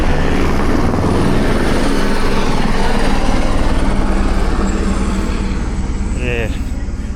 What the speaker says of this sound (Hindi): ये हेलीकॉप्टर की आवाज़ थी